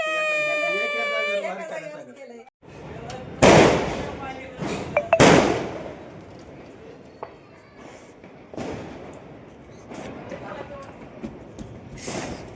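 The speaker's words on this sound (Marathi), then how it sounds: "आमची कॉलनी आणि नवीन वर्षाचं सेलिब्रेशन. फटाके मस्त पैकी ये" Firecrackers burst during a neighbourhood New Year's midnight celebration in a residential colony, a few loud sharp cracks around three and five seconds followed by fainter pops and crackling, with a child crying at the start and voices throughout.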